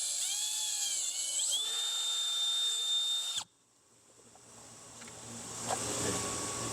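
Power drill whirring through a hole in a plastic fender flap on a Kawasaki Teryx H2 UTV during a Rokblokz fender kit install, a steady high whine that cuts off sharply, then quieter workshop noise returns.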